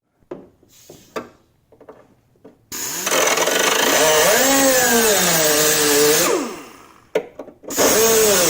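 A power tool cuts into a car's rear fender in a loud, sustained whine with wavering pitch, preceded by short clunks and handling noises and followed by a brief restart.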